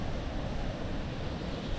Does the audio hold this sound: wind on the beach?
yes